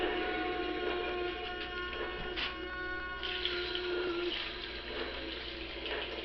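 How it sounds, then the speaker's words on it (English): A small 12-volt water pump hums steadily while water runs and splashes through it, a continuous close-up whir with faint trickling and brief clicks, no voices. "Now we're going to start putting water in."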